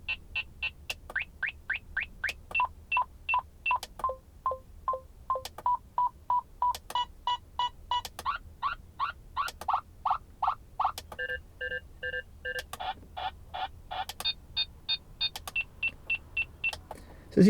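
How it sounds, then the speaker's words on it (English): A Uniden DFR9 radar detector runs through its twelve customizable alert tones for radar bands and laser, a long series of rapid, loud electronic beeps and chirps in steady rhythmic bursts that change pitch and pattern, with no talking. "we've got 12 different customizable alert tones for all of the different radar bands, as well as for laser"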